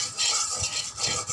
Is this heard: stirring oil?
yes